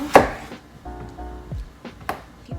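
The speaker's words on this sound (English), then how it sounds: "These I'm gonna cut in like twos and then twos again. Still a lot of tomato." Tomatoes being cut with a knife on a cutting board, a few distinct chops spaced irregularly, close and fairly loud with no talking.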